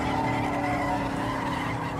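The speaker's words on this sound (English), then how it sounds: "we can put it into drift mode, and that lets you do some silly things in this car." A Ford Focus RS in drift mode slides with its tyres skidding and squealing steadily under a loud, continuous engine roar, close and sustained throughout.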